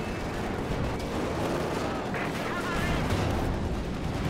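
Explosions and gunfire from fuel cannons in the Company of Heroes 2 video game rumble in a dense, continuous barrage of blasts and crackling fire.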